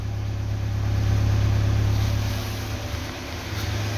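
A Geely CK engine idles with a steady, low exhaust rumble, with steam but no misfire, swelling slightly in the middle, with a constant hum and no voices.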